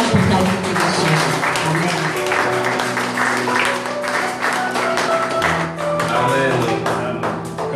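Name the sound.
congregation applauding and cheering at a church service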